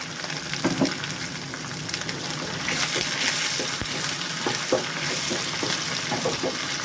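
Onions, peas and green chillies fry in oil for a samosa filling, giving a steady, close sizzling hiss with occasional clinks of stirring.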